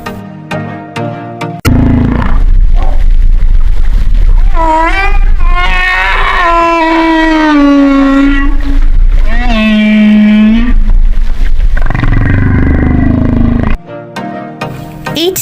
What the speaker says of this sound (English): The humpback whale is famous for its long, complex songs lasting up to 13 minutes.